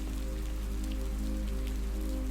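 Steady rain falls on a rippling stream in front of a cabin in the woods, a dense unbroken patter with a low constant rush beneath it, close and even throughout.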